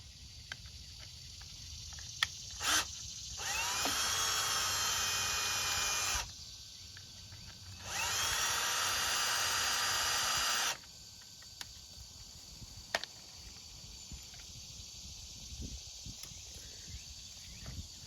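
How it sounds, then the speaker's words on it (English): A drill bores through aluminum with a black oxide bit on a pop-up camper's awning support foot, giving two sustained high-pitched whining bursts of about three seconds each, separated by a pause, with quiet handling noises around them. "that's a black oxide bit to go through the aluminum better"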